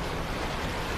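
Sea waves washing against lonely rocks on an open shore, a constant broad roar of surf mixed with wind rumble, steady and close, with no voices.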